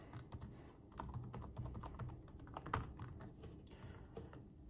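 Password typed on a computer keyboard, a steady run of close, crisp key clicks with uneven rhythm and no voices.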